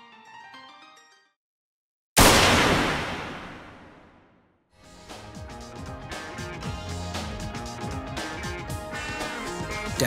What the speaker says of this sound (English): everything fades to black as a gunshot sounds off